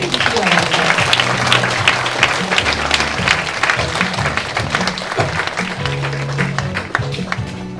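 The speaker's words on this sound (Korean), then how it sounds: "큰 박수로 환영해 주시기 바랍니다." Sustained applause from a Seoul forum audience welcoming British speaker Jonathan Collie, dense and steady for several seconds, with voices and a low musical bed underneath.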